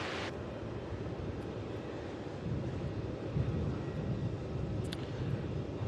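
An aircraft at Melbourne Airport rumbles steadily in the distance, a broad low roar that swells slightly partway through, with wind noise on the microphone.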